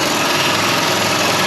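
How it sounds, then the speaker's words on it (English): A car engine idles with a newly installed exhaust that still has a manifold leak, a loud, steady, close buzzing drone with a raspy edge and no change in pitch. "Exhaust is sounding good."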